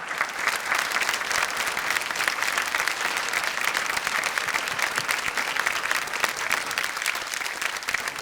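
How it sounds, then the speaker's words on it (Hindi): Loud, dense applause from a large audience at a women's empowerment event, honoring a Bollywood dancer. It is a sustained, even roar of many hands clapping close by, with no talk over it. "जीतू जी के लिए एक बार जोरदार तालियां हो जाए।"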